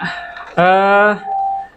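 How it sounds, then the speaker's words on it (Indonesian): A school bell rings once for about half a second with a bright, sustained metallic tone, surrounded by brief voices in a classroom. "karena belnya sudah berbunyi"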